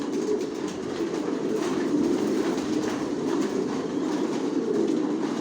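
Racing pigeons and squabs in a home loft make a dense, continuous burbling murmur, steady and fairly loud throughout with no talking.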